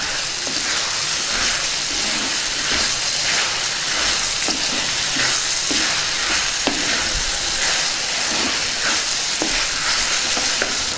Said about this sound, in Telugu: వీటిని ఒకసారి బాగా కలుపుకుందాం.